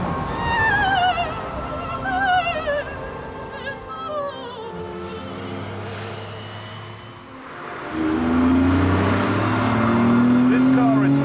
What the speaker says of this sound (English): This car is fast like no other. It's brutal.